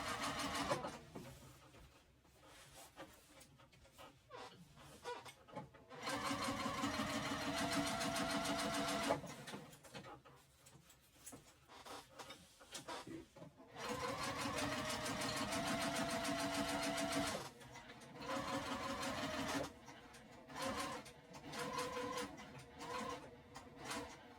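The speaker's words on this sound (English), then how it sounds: "Just gonna keep it flat and just top stitch along." A sewing machine top stitching a tote bag whirs in several steady bursts of rapid stitching, separated by short pauses and small mechanical clicks.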